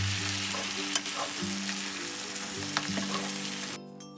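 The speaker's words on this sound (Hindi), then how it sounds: "इनको हल्का सा फ्राई करेंगे और साथ में चलाते भी रहेंगे ताकि ये जले ना" Ingredients for Kashmiri mutton kanti lightly frying while being stirred. A brief, close, steady sizzle with faint stirring taps cuts off shortly before the end.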